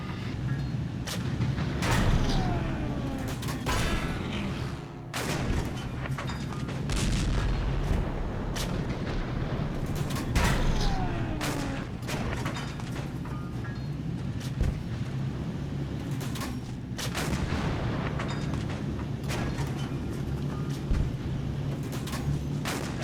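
Tank cannon blasts and explosions in a tank-versus-tank video game, heavy booming shots repeating every few seconds over a constant low engine rumble.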